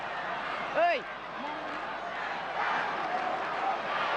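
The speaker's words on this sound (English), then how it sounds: "Crowd roaring." A crowd roars at a 1981 rugby league minor semi-final between Newtown and Manly, a sustained broad swell of voices with a shrill whistle-like cry near the start and the roar building toward the end, heard alone.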